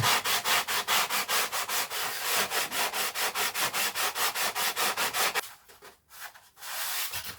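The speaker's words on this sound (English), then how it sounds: "you can do a quick bit of sanding while there's sort of CA in the vicinity" Steady back-and-forth sanding strokes on balsa wood of a model plane, about three per second, close and loud, ending with a few scattered scrapes and a brief pause.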